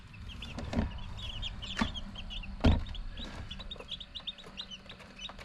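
Freshly hatched chicks peep in quick, high bursts close by, a steady chatter of calls mixed with a few soft thumps and bumps in the incubator, with no talking.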